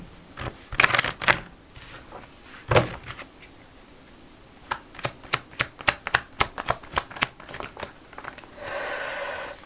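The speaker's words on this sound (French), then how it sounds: "Et je vais y tirer 3 cartes." Tarot cards are shuffled and drawn by hand, with a burst of riffling at the start, then a long run of quick, evenly spaced flicks and taps, ending in a steady rustling slide; close and fairly loud.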